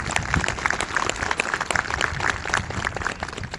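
Audience applause at a ceremony opening a parking lot in Ganghwa, steady clapping from a crowd of residents that holds at moderate volume throughout without fading.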